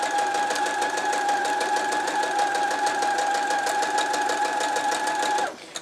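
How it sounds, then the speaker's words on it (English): A sewing machine runs continuously while stitching quilt pieces down to a corner, a close, steady rapid mechanical whir with an even stitching rhythm that stops abruptly at the end. "And then we sew down to the corner."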